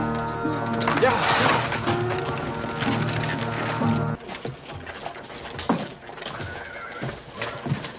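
A horse whinnies loudly over a dense, busy background with voices in a western film scene shot at Fort Bravo, followed by scattered hoof clops and knocks as the sound thins out.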